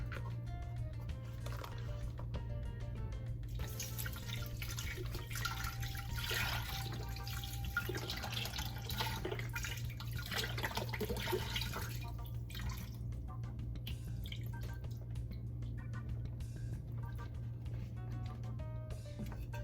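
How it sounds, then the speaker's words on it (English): Beef broth poured into an Instant Pot while making shredded beef, a steady soft liquid trickle and splash that runs continuously for about twenty seconds over a low background hum. "I will be adding the whole thing of beef broth."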